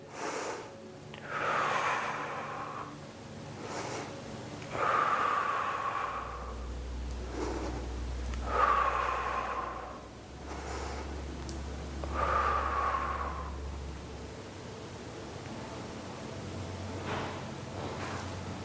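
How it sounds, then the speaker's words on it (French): Steady, audible breaths during a bodyweight exercise come close and rhythmic, with about four long inhale-exhale cycles spaced a few seconds apart, some slightly snorting through the nose. "On inspire, on expire."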